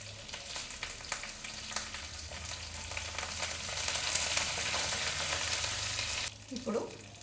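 Green chillies and curry leaves fry in hot oil with a close, crackling sizzle that swells midway, stirred now and then, before dropping off sharply near the end with a brief clatter.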